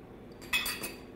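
Boiled potatoes go back into a cooking pan with a little of their cooking water, giving a brief, close clatter and clink of metal cookware against a quiet background.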